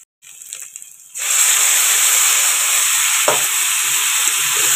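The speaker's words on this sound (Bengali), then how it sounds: "ভেজে নিচ্ছি এখন" Spices sizzle loudly in hot oil in a pan: black cumin, bay leaf, turmeric and salt hit the oil after a quiet moment, giving a steady close hiss with a faint stir partway.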